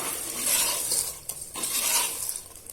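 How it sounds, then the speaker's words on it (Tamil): Onion-tomato paste and brinjal being sautéed in a pan for Tamil-style wedding kara kuzhambu, with steady sizzling and occasional scraping stirs of a spoon against the pan, close and alone. "கத்திரிக்காயையும் சேர்த்து அது கூட நல்லா வதக்குங்க"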